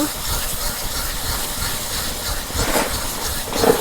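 Steady broadband hiss of tomatoes frying in a pan, with a brief louder flare near the end; no talking.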